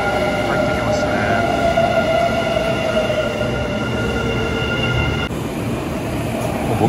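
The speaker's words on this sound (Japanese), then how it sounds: "しまかぜの車両が回送列車で入ってきましたね。" A Kintetsu Shimakaze train, running out of service, rumbles into Osaka Namba station with steady rail noise and a faint high squeal, a tonal hum fading out near the end.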